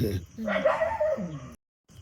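Dogs give a short, close burst of barking and yelping that lasts about a second and a half. It ends abruptly, and voices are heard nearby.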